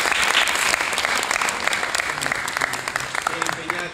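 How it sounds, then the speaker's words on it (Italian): Audience applause at a mayor's event on secondary schools in Librino, honouring an organiser: dense, steady clapping from a sizeable crowd that holds for the full stretch, with a voice faintly beneath it. "merita un applauso"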